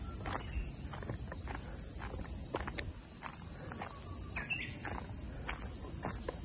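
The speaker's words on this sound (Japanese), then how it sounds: "セミの声、" A dense, continuous high-pitched drone of cicadas fills a Japanese summer day, loud and unbroken, with faint footsteps and scattered soft knocks beneath.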